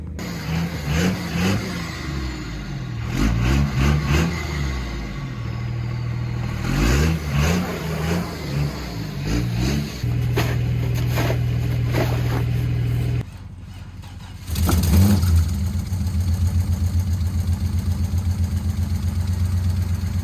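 A Pontiac Trans Am's engine idles and warms up, with steady low rumble broken by several short revs and one brief drop in sound before it settles back to a loud, even idle, close by and with no talking.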